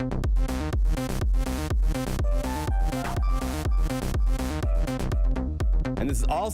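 Synthesized dance track built with the Serum software synth plus one sampled bass, with a steady four-on-the-floor kick pumping under layered pads and leads, loud and continuous throughout.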